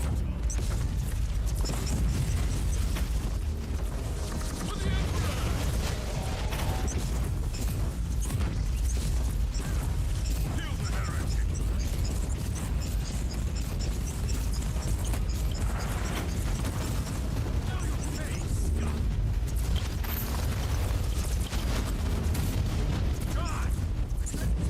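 Continuous gunfire and bursts of explosions in the sci-fi action game Warhammer 40K: Inquisitor - Martyr, dense and loud throughout, with some talk mixed in.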